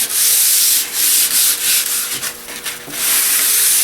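Sandpaper of 150 grit rubbed over walnut wood, a close, loud, continuous scratchy rasp in steady back-and-forth strokes with brief dips between passes, and no voices.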